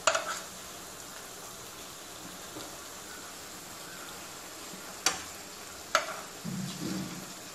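Snacks frying in oil in a pan over a medium flame, a steady soft sizzle with a few sharp clinks and scrapes of a utensil near the end.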